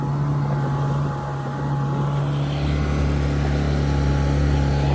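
A Carolina Skiff 16 with its outboard motor at quarter throttle drones steadily on the water, a constant low hum with rushing wind and hull noise throughout.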